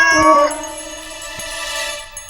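A cat gives a drawn-out, wavering meow close by against a steady musical background, with a brief sharp tap partway through.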